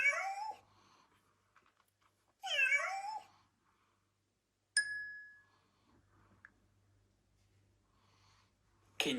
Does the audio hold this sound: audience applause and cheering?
no